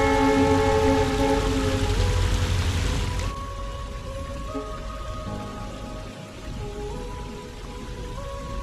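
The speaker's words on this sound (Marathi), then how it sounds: "दिवसाची पहिली ट्रेन आता क्रॉस झाली" A train crosses near KP Waterfall at Khopoli in the Sahyadri hills, its loud rumble and sustained horn tones over steady rain and rushing water, then fading as the rain and water carry on alone.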